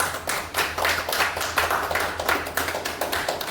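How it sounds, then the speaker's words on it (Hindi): Audience applause for host Pradeep Sawant at a business meeting: dense, steady hand clapping from a room of people, fairly close and even throughout, with a faint low hum underneath and no talk over it. "जोरदार तालियां सावंत सर के लिए, ताली जोरदार बजाओ यार"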